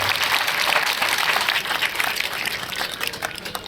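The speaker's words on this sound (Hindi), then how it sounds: "मैं चाहता हूँ अतका एक्टिव विधायक पर एक बार ताली होना चाहिए।" A crowd at a public gathering bursts into steady applause for an active MLA, many hands clapping loudly and continuously, with a slight rise toward the end.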